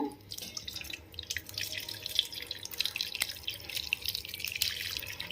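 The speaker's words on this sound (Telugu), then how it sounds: "టూ త్రీ టైమ్స్ మరలా చల్ల నీళ్ళు పోసుకొని కడుక్కొని" Cold water runs and drips through a cloth holding freshly made paneer in a kitchen, a soft steady trickle with scattered drips, close but faint, with no talk.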